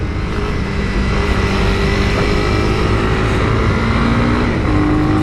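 A 2019 Honda CB300R 30 bhp motorcycle engine drones steadily while riding, with rising tones as it pulls through the gears under constant wind noise, close and loud.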